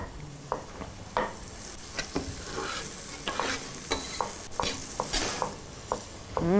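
Onions and peas frying in a pan sizzle steadily up close, broken by frequent spatula stirs and scrapes against the pan in an irregular rhythm.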